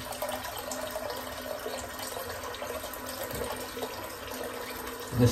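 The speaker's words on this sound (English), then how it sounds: "Just get a bit of water on my hands." Water runs steadily from a sink tap into the basin before shaving, a soft, continuous rushing stream heard fairly close, ending in a brief louder splash or clunk.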